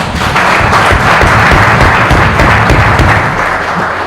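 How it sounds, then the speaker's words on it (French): A quiz show audience in Lubumbashi claps for itself, loud, close, dense applause with heavy thumping hand impacts, holding steady before easing slightly at the end. "Je vous prie d'applaudir pour vous-même."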